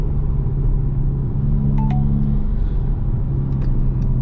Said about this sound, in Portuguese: rapaziada, bora mandar marcha